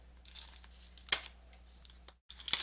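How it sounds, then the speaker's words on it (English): Scissors cut a small strip of packing tape on a Star Wars Destiny card box, with short crinkly snips and a brief tearing rasp between quiet pauses. "Let's get our scissors here to cut this little tape."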